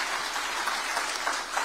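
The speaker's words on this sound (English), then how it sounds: "Another round of applause." Audience at a ceremony in Kenya marking the opening of the World Chambers Federation Africa, clapping in a dense, steady wash of applause at moderate distance without a break.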